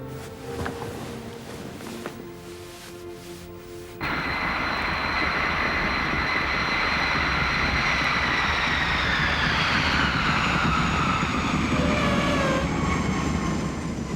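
Jet airliner engines roar loudly and steadily as an aircraft arrives, a sustained rising whine over a broad rumble that starts abruptly and continues without talk.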